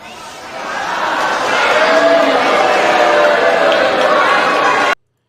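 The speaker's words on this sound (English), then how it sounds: "They're actually booing Marjorie Taylor Greene, all right?" Large audience at the State of the Union speech booing, a broad sustained roar of jeers and chatter that swells and holds steady for several seconds before cutting off abruptly.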